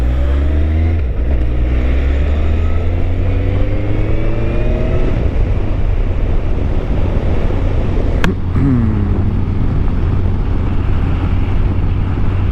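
A Honda motorcycle rides through Brussels at one in the morning in freezing cold. The engine drones loud and close with rising and falling revs, buffeted by wind noise, and another vehicle briefly whooshes past partway through.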